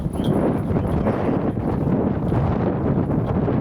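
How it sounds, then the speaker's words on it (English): Strong wind on an outdoor disc golf course in Jones Park, Decatur, Texas, a constant loud rumbling buffet of gusts battering the microphone, with no talk. "Yeah, the wind was just howling."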